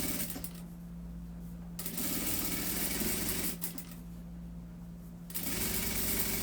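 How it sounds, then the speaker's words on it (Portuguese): Sewing machine topstitching a seam on a cloth doll's foot, running in steady fast humming bursts with a short pause between runs, close and fairly quiet. "eu vou rebater uma costura bem no pezinho aqui, ó, tá?"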